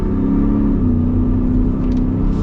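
2022 Ford F-150 Super Snake Sport pickup accelerating at partial throttle, a steady, continuous engine drone and road rumble heard from inside, with a slight shift in pitch and no talking.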